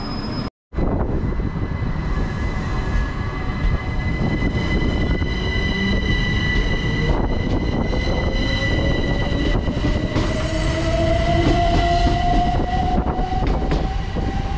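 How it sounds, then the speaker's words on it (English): A Class 377 electric train, unit 377435, pulls out of Lancing station with a loud, continuous rumble and a rising electric motor whine that climbs steadily in pitch as it gathers speed, with no talking. "there goes 377435 departing out"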